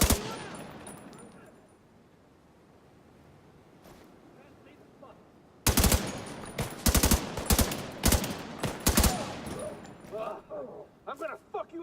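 Rapid gunfire bursts from a weapon in The Division 2 erupt after a quiet stretch, loud staccato volleys and single shots continuing to the end, with someone talking over the firing.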